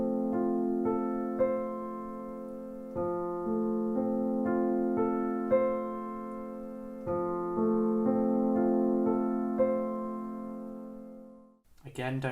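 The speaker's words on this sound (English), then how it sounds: "I want you to play from the very lowest note that you're holding on the piano up to the top" Notes of a held piano chord are played one at a time from the lowest to the highest, cleanly and unhurried, in repeated rising passes that ring close and clear before the sound cuts off.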